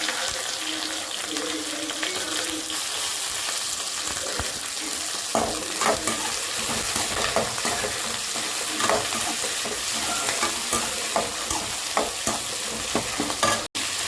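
Curry leaves and dried red chillies frying in hot oil in a pan while being stirred, a continuous loud sizzle broken by scraping spoon strokes and clinks, close up with no talk.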